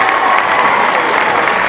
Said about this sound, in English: let's give a round of applause to our dancers, to our coaches, to our ballroom dance instructors